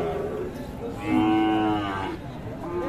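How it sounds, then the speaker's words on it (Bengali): A bull at a cattle market for sacrificial livestock lets out a single loud, close moo lasting about a second, set against a low murmur of background noise. "আমরা দেখছি এই পাশে দুটি গরু রয়েছে"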